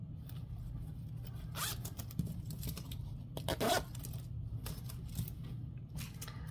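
A zipper on a crocheted mushroom bag is worked in short, quiet bursts of rasping zips against a faint steady background hum, with a few soft handling clicks between pulls.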